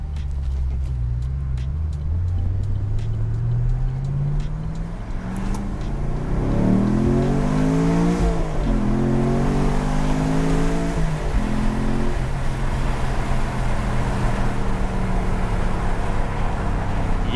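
A 2014 Chevrolet Camaro Z28 with an LS7 engine accelerating hard in sport mode, a loud deep exhaust roar climbing through the revs with upshifts, heard from inside the car.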